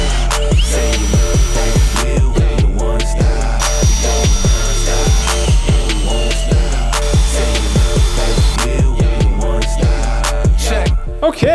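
A power drill whines repeatedly while boring pilot holes and driving screws into wooden workbench legs, loud and close, with short bursts of rising and falling motor pitch and brief pauses between holes.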